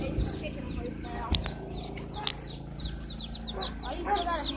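Chickens kept in a small backyard pen cluck softly and steadily nearby, with a couple of sharp knocks and rustles, while people talk quietly in the background.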